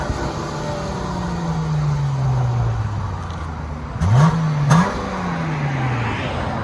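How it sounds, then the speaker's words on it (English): A stock Chrysler 300 with the resonator deleted and Vibrant mid mufflers revs close by, its pitch sliding down, then flaring in two quick blips near the end. "Chrysler 300 with vibrant mids only. Everything else is bone stock."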